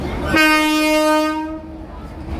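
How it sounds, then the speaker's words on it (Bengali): A passenger train entering platform 14 at New Delhi station sounds one loud, sustained horn blast for just over a second, close by, followed by platform rumble. "আমাদের ট্রেন ঢুকছে"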